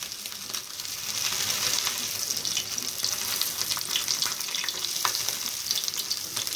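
Aloo tikki potato patties fry in oil while being pressed down with a spatula, a loud, steady crackling sizzle with spattering pops throughout, close up and without speech.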